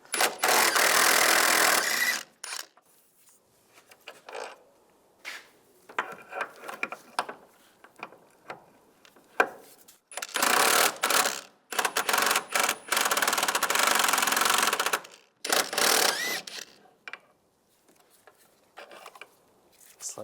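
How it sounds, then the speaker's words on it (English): A ratchet with a 16mm socket loosens engine mount bolts on a 1999-2005 Volkswagen Jetta, giving bursts of rapid close clicking separated by pauses and scattered metallic handling sounds. "using a 16mm socket, take the 2 bolts off the back side of the mount."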